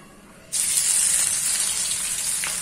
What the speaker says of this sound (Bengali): রসুন আর আদা বাটাটা আগে দিয়ে দিচ্ছি